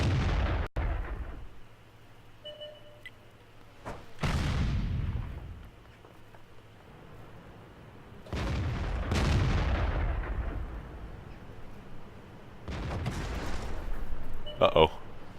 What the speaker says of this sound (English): I'm not a huge fan of this artillery piece.